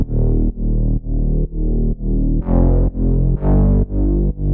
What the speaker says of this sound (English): it's just a couple saw waves filtered with some envelopes on that cutoff.